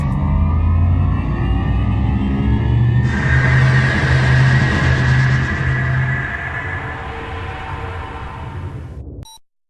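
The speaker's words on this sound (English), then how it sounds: "Engage your subspace drive to end this simulation." A spacecraft's subspace drive engages in the space combat game Freespace 2: a loud, steady mechanical drone with a rising tonal whine that swells midway, then fades and cuts off abruptly, with no voices.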